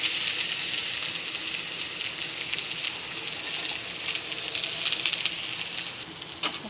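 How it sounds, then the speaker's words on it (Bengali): Onions sizzle in hot oil in a wok for a Bengali fish-oil dish, giving a steady, loud, close hiss with light crackle throughout and no voices. "এবার এক এক করে পেঁয়াজগুলো ছেড়ে দেবো।"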